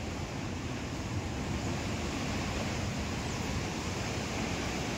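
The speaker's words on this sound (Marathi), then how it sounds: "बघताय खाली समुद्र भरपूर भरती आलेली आहे." Sea waves at high tide wash against the shore at Cola Beach in South Goa, a steady broad hiss of surf with no distinct breaks and no voices.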